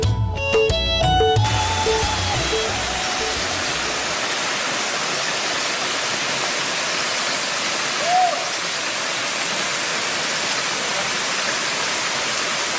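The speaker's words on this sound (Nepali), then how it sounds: "वास्तवमै सुन्दर रहेछ झरना।" A year-round hidden waterfall in the Kachal area of Nepal gives a steady, broad rush of falling water that fills the whole clip, with a brief burst of music at the start and a faint hoot partway through.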